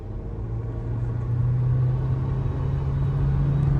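A turbocharged Honda K24-swapped EF hatchback drives along with a deep, steady engine rumble and road roar, building slightly in loudness as it pulls, heard from inside the car with a low droning hum.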